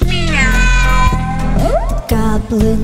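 A cat meows in a Halloween song, with several drawn-out, rising and falling meows loud over the music.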